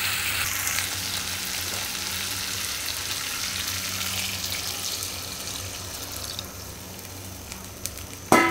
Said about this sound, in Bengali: এখন আমি গরম জল দিয়ে দেবো।